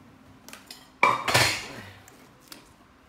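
An aluminum cooking pot for a gas stove being handled, with a loud metallic clank as it is set down or knocked, followed by a ringing decay and a few lighter taps before and after.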